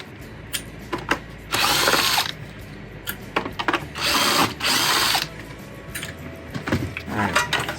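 A power driver backs Phillips head screws out of an Oreck Magnesium vacuum cleaner housing, giving several short whirring bursts between brief clicks and handling noises, close and fairly loud.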